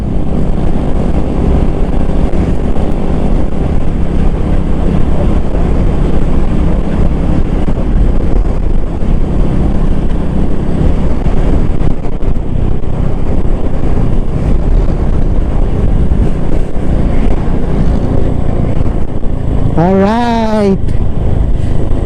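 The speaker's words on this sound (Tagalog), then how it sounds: "Woo! Sarap talaga ng hangin." Strong wind roars continuously against the microphone along a highway in Nasugbu, Cavite, loud and buffeting, with a brief whistle-like tone near the end.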